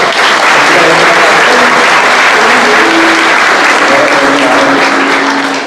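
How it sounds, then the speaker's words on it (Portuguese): Church congregation applauding during a Holy Thursday Lord's Supper service at a parish, sustained loud dense clapping filling the whole stretch, with faint voices murmuring underneath. "Vamos dar uma salva de palmas para os dois?"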